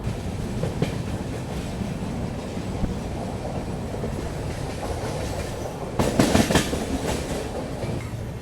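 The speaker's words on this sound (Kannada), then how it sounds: "ಕಂಟಿನ್ಯೂಸ್ ನಾನ್ ಸ್ಟಾಪ್ ಆಗತ್ತೆ ನಮ್ಮ ಟ್ರೈನಿಗೆ ರನ್ ಆಗತ್ತೆ" The Bengaluru Belagavi Superfast express, train 20653, runs non-stop with a steady close rumble and wheel clatter, and a louder burst of rattling toward the end.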